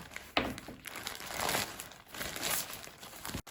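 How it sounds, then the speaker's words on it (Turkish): Plastic packaging from an ADL clothing order crinkles and crumples as it is carefully opened by hand, a steady close rustle with a few sharper crackles, no talking over it. "Bir paketimiz var. Açalım şöyle. Zarar vermeden."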